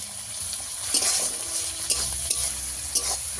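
Tomatoes frying in a pan with salt and coriander leaves, a close steady sizzle broken by repeated sharp scrapes and knocks of a spoon stirring against the pan, no voices.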